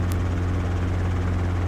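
Steady, loud helicopter rotor and engine drone during a low-level training flight, a continuous deep throbbing hum with a brief radio-like click near the start, no talk over it.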